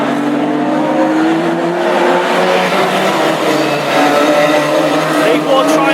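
Classic hot rods racing in a Scottish Open qualifier heat at Lochgelly, a constant loud drone of several engines held at speed around the oval, with a commentator talking over it.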